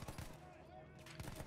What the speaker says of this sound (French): cette fois je suis à la tête d'une mitrailleuse